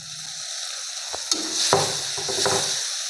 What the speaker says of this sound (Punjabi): ਤੇ ਮਟਰਾਂ ਨੂੰ ਵੀ ਆਪਾਂ ਵਧੀਆ ਜਿਹਾ ਭੁੰਨ ਲਾਂਗੇ